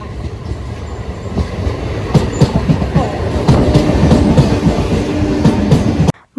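A train pulls into Tarakanagar railway station with a loud, building rumble, rhythmic clickety-clack of wheels over rail joints and faint squeals, growing stronger until cutting off sharply at the end.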